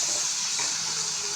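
Chillies and green beans cooking in hot oil and their own steam in a pan, a steady close hiss of sizzling and steam with no pauses, no voices.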